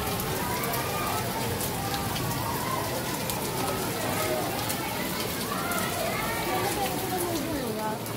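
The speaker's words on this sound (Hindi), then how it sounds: "और बहुत तेज़ बारिश शुरू हो गई है" Heavy rain pouring outdoors onto plants, a dense continuous hiss of drops with scattered splashes, loud and close, with people speaking over it and children's voices faintly in the background.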